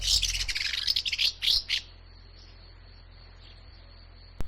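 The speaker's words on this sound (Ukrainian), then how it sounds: "Впізнали? Так, це ластівка." A swallow twitters in a quick run of high chirps for about two seconds, close by, then falls silent apart from one faint click.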